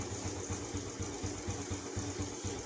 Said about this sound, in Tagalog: the motor is started and idling